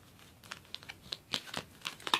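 Tarot cards are shuffled by hand in an awkward, uneven way, giving a string of soft, close, irregular crisp riffling and flicking sounds.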